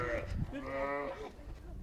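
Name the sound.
lamb bleating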